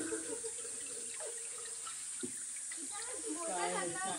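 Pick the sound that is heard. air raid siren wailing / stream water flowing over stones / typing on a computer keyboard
stream water flowing over stones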